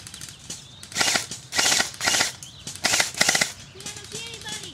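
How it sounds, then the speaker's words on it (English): Airsoft gun firefight outdoors: several rapid bursts of sharp clicking shots in quick clusters, loud and close, with voices shouting in between. "Got a firefight going."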